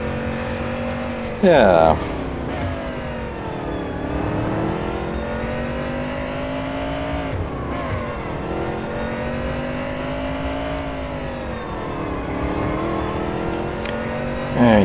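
A race car in the Real Racing 3 racing game, a NASCAR Camry on a near-empty track, drones steadily with rising and falling engine pitch, a brief louder burst of a car passing close early on, with a short spoken word over it.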